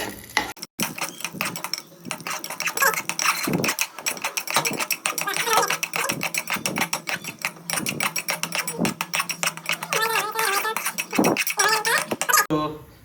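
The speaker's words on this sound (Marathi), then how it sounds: "आता एक मिनिट चमच्याने ढवळून घ्यायचं हे सगळं" A spoon stirs kheer with raisins in a pan, producing rapid, steady metallic scraping and clinking that runs continuously, with a voice heard in places.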